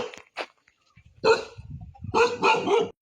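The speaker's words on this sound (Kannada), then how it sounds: "ಯಾರೇ ಯಾವ ಥರ ಬೊಗಳಕತ್ತೈತಿ ನೋಡಿದ. ಏಯ್ ನಾಯಿ ಚುಪ್" A dog barks in a village setting near Guddali Peak in Karwar: a short bark, then a longer burst of loud, rough barks close by, with a voice shouting at it in between.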